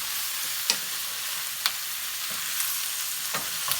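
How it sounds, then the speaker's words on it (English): Sausage browning in a pot for gumbo gives a continuous close sizzle, broken by a few sharp scrapes and clicks of a utensil stirring, with no voices. "Now we're getting this brown, the sausage is brown."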